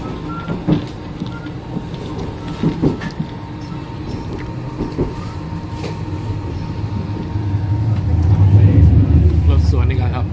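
A short train rumbles past a moving sleeper train, its low roar swelling toward the end, with scattered clatter and a voice talking over it.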